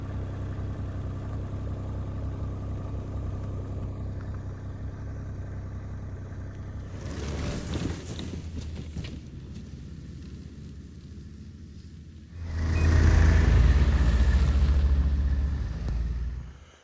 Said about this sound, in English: I've drove my snow machine back and forth across here from two different directions.